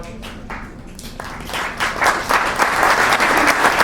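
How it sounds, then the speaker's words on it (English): An audience at a tech and biohacking meetup breaks into applause, starting with a few scattered claps and swelling into steady, dense clapping from a room full of people. "Round of applause."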